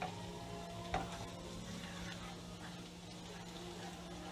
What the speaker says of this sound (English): see how my onions are frying up?